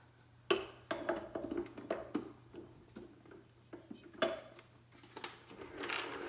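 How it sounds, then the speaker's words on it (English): A metal dough hook is fitted into a stand mixer bowl for caraway rye bread, making a quiet run of light clinks, taps and rattles spread across several seconds, close by and with no talking. "So I'm going to put my dough hook in there."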